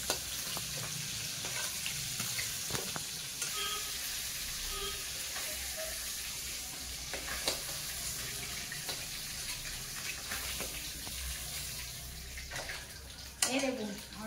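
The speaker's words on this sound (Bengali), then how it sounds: "দ্বিতীয়বারে মাছগুলো তো ভাজা হয়ে গেছে," Fish, a murrel-type variety, frying in hot oil in a wok, giving a steady close sizzle and crackle for the whole stretch, with a sharp clatter near the end.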